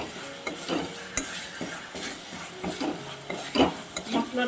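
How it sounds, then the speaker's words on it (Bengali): Spice masala for Bihari dal puri sautés in a pan with a little water, sizzling steadily while a utensil stirs and scrapes in repeated strokes, with occasional clinks against the metal; no voices. "এবার মশলাটা নাড়িয়ে ফাড়িয়ে আমি কষিয়ে নিই।"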